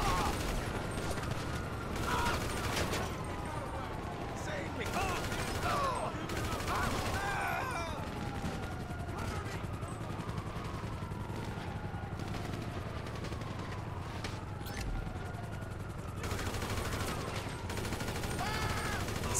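Gunfire in GTA Online on PS5 comes as repeated bursts of shots, some clustered and some spaced out, over a steady droning mechanical rumble with faint voices in the mix.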